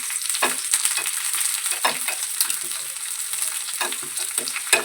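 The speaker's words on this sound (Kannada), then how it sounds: "ಎಣ್ಣೆ ಬಿಸಿ ಮಾಡಲಿಕ್ಕೆ ಇಟ್ಟಿದ್ದೀನಿ ಅದಾದಮೇಲೆ ಏನು ಬೇಳೆ ಉದ್ದಿನ ಬೇಳೆ ಹಸಿಮೆಣಸಿನ್ಕಾಯಿ ಹಾಕೊಂಡಿದ್ದೀನಿ" Urad dal and green chillies fry in hot oil, giving a loud, continuous crackling sizzle with bursts of spattering, close up and with no talk.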